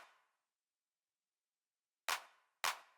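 Two sharp, snappy hand claps shaped with a soft snare compressor and EQ Three inside Ableton Live for an indie rock mix, struck about half a second apart after a faint decaying tail, with nothing else playing.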